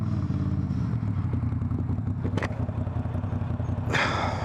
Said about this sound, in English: Engine braking is great, but I love that downshift sound.